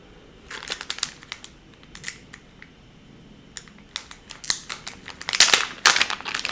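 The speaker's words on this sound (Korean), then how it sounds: "굳이 이렇게 가위질 안 해야 되는데," Scissors snipping and crinkling the plastic zip pouch of a muscle and joint relief patch package, close up, with sharp irregular cuts and rustles that grow louder toward the end.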